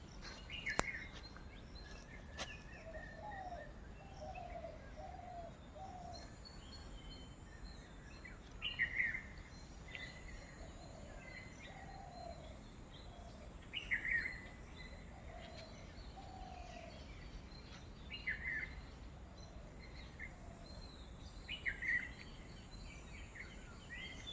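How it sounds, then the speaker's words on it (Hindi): Birds call now and then in a quiet forest, a few short clear calls repeating every few seconds with soft chirps between, heard at a moderate distance over a faint, steady background hush. "आवाज़ आई पक्षियों का, ऐसा लगता हो जैसे किसी को पुकार रहा हो।"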